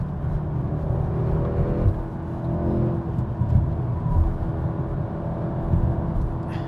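A 2024 Audi S3 prototype accelerating hard out of a corner, its engine drone rising and holding steady as a close, continuous rumble with no voices over it.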